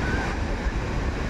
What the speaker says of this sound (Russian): здесь не покупаешься, здесь он просто волны, серферы на этих досках.